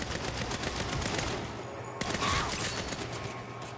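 Video game gunfire crackles in a dense, sustained burst, with rapid shots running together loud and close and a sharp fresh volley partway through.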